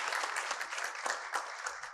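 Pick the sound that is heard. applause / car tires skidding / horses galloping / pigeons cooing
applause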